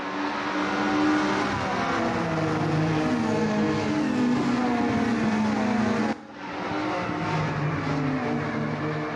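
Touring car engine from the Assetto Corsa racing game, revving and changing pitch through gear shifts, with a brief dip partway through; loud and continuous, no talking.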